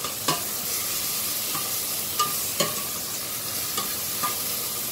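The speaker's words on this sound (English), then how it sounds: "After adding the ginger garlic paste, just cook it for some time" Ginger garlic paste frying on a slow flame for bhindi pulusu, a soft, even sizzle close by with a handful of spaced spoon taps and scrapes against the pan, no one talking.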